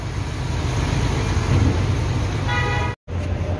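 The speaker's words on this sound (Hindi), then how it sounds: "ये अल मदीना गाड़ी है, अल मदीना।" An Al Madina goods vehicle sounds its horn amid steady, loud road and engine noise, a short tonal honk standing out near the end before a brief dropout.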